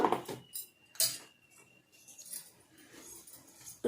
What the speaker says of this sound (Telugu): మనం కొంచెంగా డికాషన్ పోసి బ్రష్ పెట్టి కలుపుకోండి